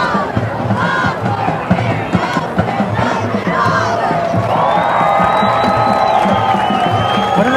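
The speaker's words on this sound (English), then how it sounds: "Good crowd. It's a homecoming crowd." Homecoming crowd at a varsity high school football game, Three Rivers vs Refugio, roaring and cheering continuously with loud whoops and shouts, a dense sustained wall of voices that swells and stays strong throughout.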